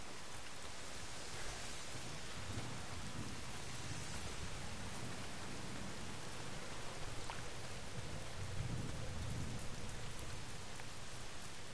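Steady heavy rain at night in the video game Days Gone, a dense continuous hiss with faint low rumbles, constant and enveloping with no voices.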